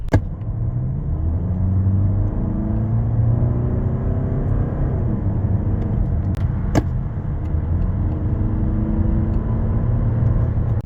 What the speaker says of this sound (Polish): Szybka też nie jest reakcja skrzyni biegów, w której redukcje naprawdę trwają sporo.